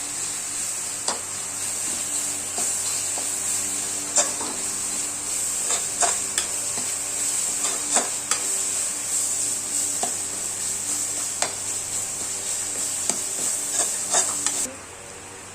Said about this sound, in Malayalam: അത് നല്ല ഒന്ന് ഇളക്കിയതിന് ശേഷം അത് തക്കാളി മുളയിട്ട് നല്ലോണം ഇളക്കാം.